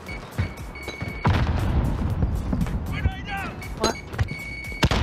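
Frag grenade blast in a first-person shooter video game: a deep boom with a sustained rumble, plus other weapon thumps and sharp shots around it, while players talk over the action.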